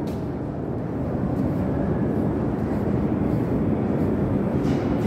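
Steady low rumble of a metro train in motion in Samara, Russia, continuous and fairly loud, with a constant mechanical roar and no voices.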